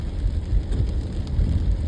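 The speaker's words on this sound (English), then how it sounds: "And it's raining pretty hard right now." Heavy rain falls outdoors by a coastal Connecticut salt marsh in winter, a dense, continuous wash with a deep rumble underneath, as if heard through wind or a covered microphone.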